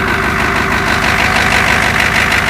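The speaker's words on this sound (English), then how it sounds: "Let's do this startup first. Glow plug. Get it up to high throttle. I love that sound of a cold diesel in the morning." A cold Ford F-250 diesel engine, just started after the glow plugs, runs at high throttle with a loud, close, steady clattering rumble that holds throughout.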